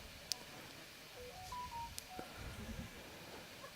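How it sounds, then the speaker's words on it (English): A mobile phone gives a short run of faint electronic beeping tones at an outdoor lawn bowls carnival, sounding distant and quiet against a steady background hiss. "That's your phone, Robbie."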